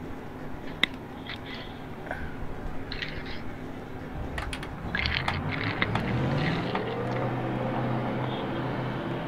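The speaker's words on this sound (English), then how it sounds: "Drivers, start your engines!" Race car engines start and rev in the NASCAR Racing 2003 video game, a low mechanical rumble that builds and swells into a steady, layered drone of many engines.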